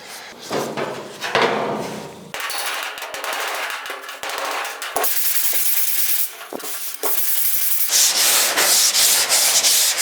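Hand sanding a dent on a 1956 Chrysler 300 hood, rough rasping strokes in quick repeated bursts, close and fairly loud, with short pauses between runs.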